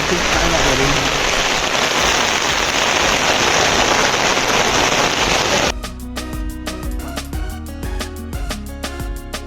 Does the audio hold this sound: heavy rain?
yes